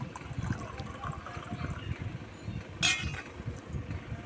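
Pure water is poured into a small ordinary pot while preparing a bath for a Gopal deity. A soft, close trickle and splash continues with a brief bright clink partway through, at low level.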